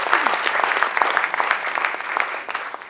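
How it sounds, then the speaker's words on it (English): A crowd claps steadily, a dense wash of applause from many hands, fairly close and continuous throughout. "Please give him another round of applause."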